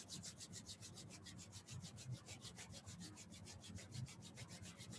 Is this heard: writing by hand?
no